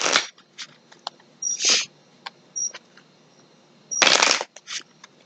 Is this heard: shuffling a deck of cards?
yes